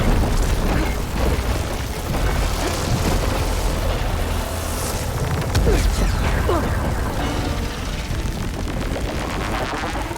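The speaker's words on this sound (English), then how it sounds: "It's gonna explode any second." Dense, loud rumbling explosion from a plasma-charged machine in Horizon Forbidden West, with booming bursts and crashing debris layered over a constant roar, and a voice briefly heard underneath.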